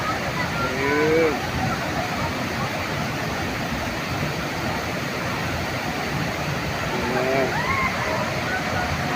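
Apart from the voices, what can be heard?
Tinago Falls waterfall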